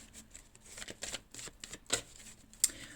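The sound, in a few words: cards being handled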